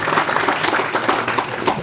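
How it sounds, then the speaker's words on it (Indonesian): Audience applause at a village office inauguration ceremony in North Lombok, a steady dense clapping that fills the short stretch, fairly close and loud with no clear talk over it. "Tepuk tangan Kepala Desa ini"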